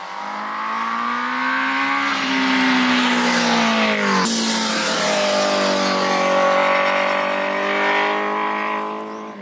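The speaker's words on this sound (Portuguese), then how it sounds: "dá até para ouvir a hora que a válvula abre" A Honda CBR 1000 RR-R Fireblade SP roars loudly under acceleration, its engine pitch climbing through gears with a sharp shift midway, as the exhaust valve opens and the note hardens and grows fuller.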